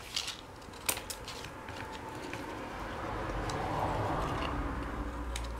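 Scissors snip a small triangle from folded cardboard for a pop-up model, giving a few crisp close clicks and cuts early on, then a soft, steady rustle of handled card, with no voices.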